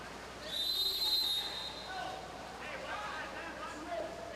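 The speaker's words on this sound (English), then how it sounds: "Another whistle." A referee's whistle blows once at a high school men's water polo game, a short, shrill blast lasting about a second over crowd noise and echoing pool-hall ambience.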